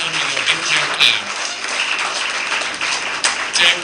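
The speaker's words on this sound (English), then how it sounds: "can they join me in giving a very big welcome and a big clap?" Audience applause welcoming guests at a gathering on women in maritime education in Ghana, a loud sustained clapping crowd that continues steadily throughout.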